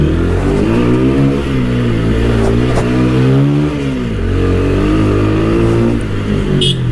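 A TVS Apache RTR 160 4V Black Edition motorcycle climbs a hill, its engine revving loud and close with rising and falling pitch as the throttle opens, steady throughout, no speech.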